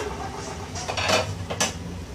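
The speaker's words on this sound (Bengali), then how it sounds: "এবার আমি ঢাকনাটা তুলে নিচ্ছি" A metal lid comes off a cooking pot of alur dum with a couple of brief clanks and scrapes close by, no talk.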